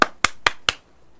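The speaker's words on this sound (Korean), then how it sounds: "박수." Four sharp hand claps ring out close by, evenly spaced about a quarter second apart, then stop; no voices accompany them.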